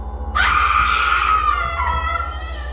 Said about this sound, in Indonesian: Teriakan sepotong itu keluar saat aku melihat pocong yang tadi mengejarku kini berada di atas langit-langit pos ronda